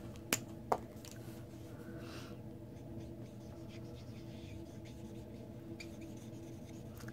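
Alcohol blend markers colouring quickly on glossy paper, a soft continuous scratchy rubbing of the tips with two brief sharp taps near the start, close and quiet.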